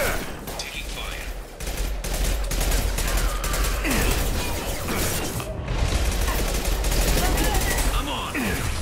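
Sustained gunfire in a Mass Effect Legendary Edition firefight, continuous volleys and impacts layered over combat noise, with voices calling out during the shooting.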